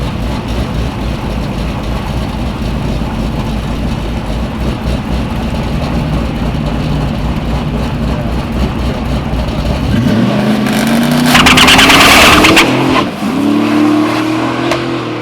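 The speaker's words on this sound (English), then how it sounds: "Man, there's a whole lot of wheel hop in there." A drag race car at a street racing event idles with a low, steady rumble, then launches into a loud, roaring rev with sharp bursts that could suggest wheel hop, before settling back under a heavy exhaust drone.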